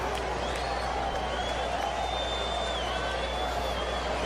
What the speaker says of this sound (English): Turn down crowd noise a little.